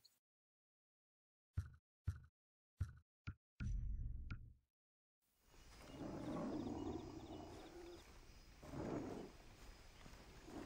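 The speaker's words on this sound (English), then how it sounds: "I hear a tiger." A tiger in the video game Far Cry 3 lets out a deep, rumbling roar that swells and fades twice over several seconds, following a few sharp thumping impacts, loud and close.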